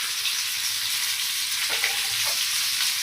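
Fish frying in a pan in a home kitchen, a steady close hiss of hot oil with a few brief crackles and no talk.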